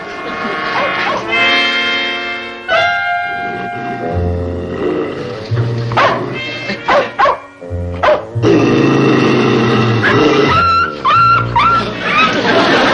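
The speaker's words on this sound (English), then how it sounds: "either that little dog there is a ventriloquist or there's another dog underneath the carton" A small dog hidden under a carton yaps and barks in bursts, mixed with other loud barking and growly noises, close and lively.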